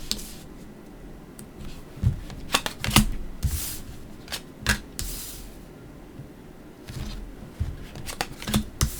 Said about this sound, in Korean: 타로 카드 하나씩 열어볼게요.